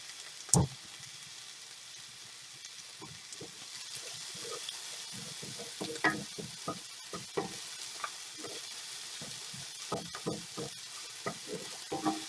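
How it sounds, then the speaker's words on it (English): Green peppers and red onions frying in oil in a cast iron pan, a steady sizzle with scattered clinks and scrapes of stirring, close up and alone. "green peppers and red onions cooking in there"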